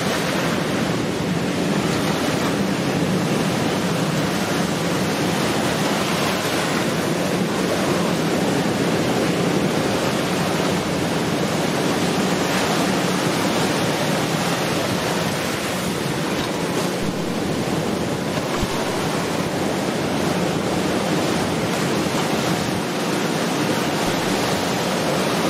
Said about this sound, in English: You gotta check these waves out.